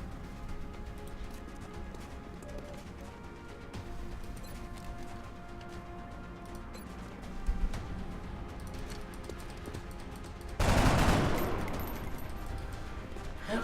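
Gunfire in XCOM Enemy Within rattles on as a dense, continuous stream of shots, closing with one loud burst of noise near the end.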